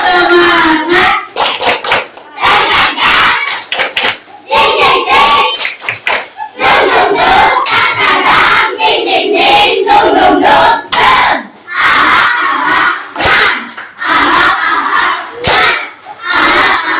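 A class of children stands and performs a rhythmic spirit chant, clapping in loud bursts and shouting together in short repeated phrases with brief pauses between groups of claps.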